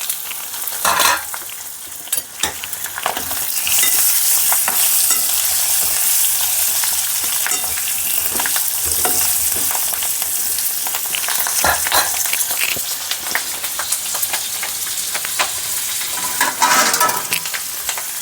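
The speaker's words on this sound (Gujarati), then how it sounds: "અને હવે આ મરચાં ભરેલા નાખું છું" Stuffed chillies frying in oil, a continuous loud sizzle with repeated scraping and clattering as a spoon stirs them in the pan.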